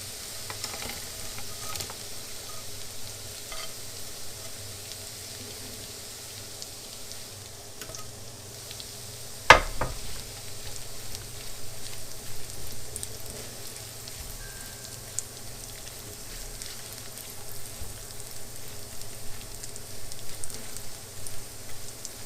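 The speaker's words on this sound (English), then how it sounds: "we're going to add the bacon that I already cooked" Already cooked bacon goes into a pan of green beans with garlic. A soft, steady sizzle continues under faint stirring, with one sharp clatter partway through.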